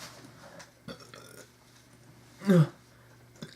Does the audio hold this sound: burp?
yes